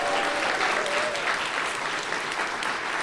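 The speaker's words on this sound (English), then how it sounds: "So let's give them a round of applause." A graduation ceremony audience gives a sustained round of applause for the graduates, a dense, steady wash of clapping from many hands that holds at an even level throughout.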